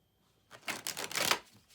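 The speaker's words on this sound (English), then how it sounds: "One more shuffle quick." A tarot card deck shuffled quickly by hand, giving a brief burst of crisp riffling and flapping cards that swells to a peak and then settles, close and fairly quiet, with no talk.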